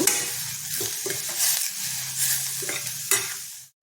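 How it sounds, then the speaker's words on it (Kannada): Cucumber pieces fry with salt in a pan while being stirred for a curry, a close sizzle broken by scraping stirs and soft clinks of the spatula, ending abruptly with no talk. "ಅದಕ್ಕೆ ಸ್ವಲ್ಪ ಉಪ್ಪನ್ನು ಕೂಡ ಸೇರಿಸಿ ಇನ್ನೊಂದು ಸುತ್ತು ಹುರಿಯೋಣ"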